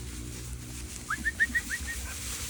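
A bird, likely a pigeon or dove, gives a short burst of about six rising chirps and coos in quick succession, fairly faint against a steady outdoor background hum.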